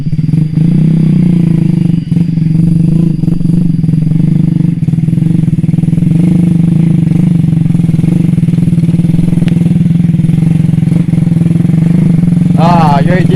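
A motorcycle riding on a newly built road, its engine droning loud and close throughout with rattling and a few revs, voices faintly underneath.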